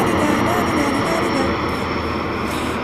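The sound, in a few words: airplane flying overhead near Prague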